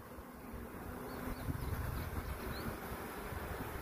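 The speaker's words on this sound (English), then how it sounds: "Sometimes when you put a queen in a box, the bees will also roar." A low, constant buzzing roar of honeybees in a mini nuc hive box after a queen is placed inside, fairly close and steady, rising slightly halfway through with no voices.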